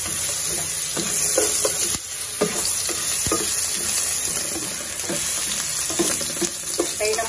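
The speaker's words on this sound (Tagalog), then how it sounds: "Ang una po natin ilalagay ay ang luya." Ginger sizzles steadily as it fries in a pan and is stirred, with a utensil scraping and clinking against the pan. The frying is close and continuous and carries no talk.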